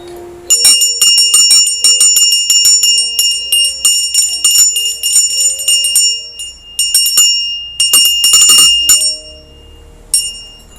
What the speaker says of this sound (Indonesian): Lonceng ini akan membuka gerbang untuk tahun